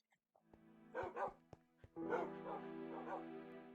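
Minecraft dogs bark in a dense chorus of yaps and yips from a kennel holding hundreds of them, loud and overlapping, with a few sharp clicks in between.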